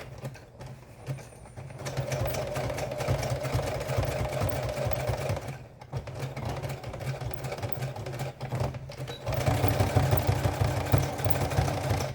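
Sewing machine running in bursts while top-stitching a jeans zipper with contrasting thread and a shortened stitch, a steady low whirring hum of the motor with brief pauses, close and alone.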